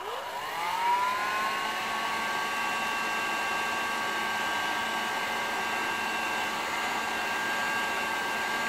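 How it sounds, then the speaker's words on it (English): A heat gun set to 280 degrees switches on and spools up within a second into a steady, loud, close whirring blow of hot air with a rising whine that then holds constant, with no voices. "I will set now the heat gun on, let's say, 280 degrees. So we will now turn it on here."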